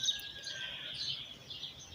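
Birds singing outdoors at sunrise, faint high chirps and whistled calls over a quiet background, with no talking.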